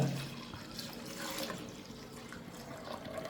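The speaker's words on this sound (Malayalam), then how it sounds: "നമ്മൾ പിടി കുറുക്കാൻ വേണ്ടി നമ്മൾ തേങ്ങാപ്പാൽ ഇതിലോട്ട് ഒഴിക്കുകയാണ്" Coconut milk is poured into a cooking pot while making pidi for a Kerala Christmas dish, a soft, continuous liquid stream splashing faintly into the vessel with no other sound.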